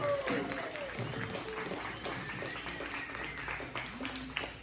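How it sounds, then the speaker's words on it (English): A comedy show audience applauds and cheers steadily throughout, with voices and whoops mixed into the clapping at a moderate, lively level. "Give it up to the man funny, Jambalaya, everybody. Give it up for him."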